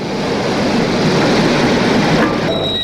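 A Class 01 steam locomotive pulling a passenger train in East Germany rumbles steadily close by, loud and continuous, with a brief squeal near the end as it slows while arriving.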